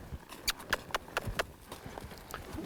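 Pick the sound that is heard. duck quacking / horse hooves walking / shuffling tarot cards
horse hooves walking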